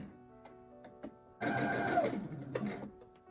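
A sewing machine stitches a gusset into the arm seam of a Regency era shift, opening with a few scattered clicks, then a steady close whirring run of stitching that tapers off.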